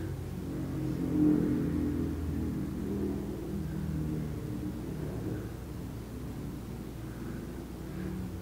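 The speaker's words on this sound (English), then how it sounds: "The reaction to the motorbike." A motorbike engine rumbles outside, its low drone rising slightly then holding steady and muffled at a distance for several seconds.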